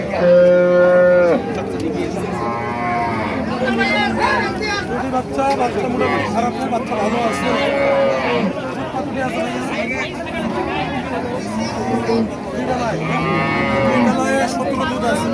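Dairy cows at Raniganj cattle market low repeatedly in long, drawn-out moos, several overlapping near and far, over a steady hubbub of crowd chatter and voices.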